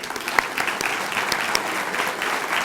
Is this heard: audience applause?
yes